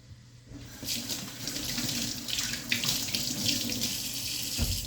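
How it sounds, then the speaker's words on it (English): A kitchen tap runs steadily into a sink as hands are rinsed of meat, a close, continuous splashing hiss that starts abruptly after a brief quiet moment. "I just had to wash the meat off my hands"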